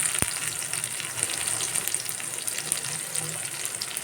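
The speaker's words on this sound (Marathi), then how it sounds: "टोमॅटोला सुद्धा आपण चांगलं परतून घेऊया." Tomato sautéing in hot oil gives a steady, close sizzle with a faint crackle that holds for the whole stretch, broken by a few soft stirring scrapes. No one speaks.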